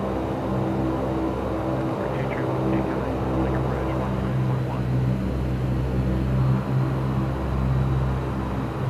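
A Dash 8 Q400 turboprop taxiing in the X-Plane 11 flight simulator, a steady, loud engine drone with a constant low hum, continuous throughout the clip with no break.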